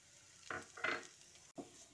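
Chopped beans stir-frying with ginger and green chili, quiet sizzling broken by a few soft spatula scrapes and a brief clatter, faint and close with no voices.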